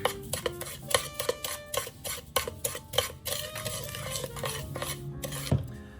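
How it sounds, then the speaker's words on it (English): Two dry ingredients mixed together in a bowl produce a quick series of rhythmic clinking scrapes of a spoon against the bowl's side, close and fairly loud. "I'm just going to mix them together real quick"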